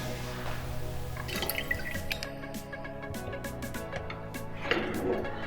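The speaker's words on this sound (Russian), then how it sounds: "В него добавляем 10 мл аммиачного буфера" Ammonia buffer solution is poured into a glass conical flask in a lab, giving faint drips and a light trickle of liquid with small glassy clinks, heard close in a quiet room.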